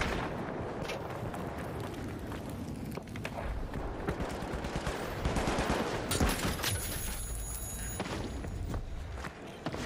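Gunfire in a video game rattles in dense, continuous bursts of rapid shots layered with booms and clatter, loud and busy for the whole stretch with no talk.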